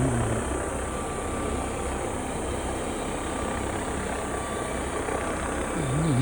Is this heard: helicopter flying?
yes